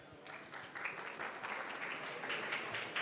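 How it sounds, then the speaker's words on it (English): Audience at a startup conference panel breaks into applause, starting lighter and swelling into steady, fairly distant clapping that fills the hall. "Please, round of applause"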